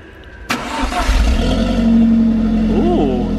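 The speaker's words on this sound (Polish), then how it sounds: "No i cold start. Posłuchajmy," Alfa Romeo 4C Spider cold start: a sharp crank and catch, then a loud, rising engine roar settling into a high, rough idle close by.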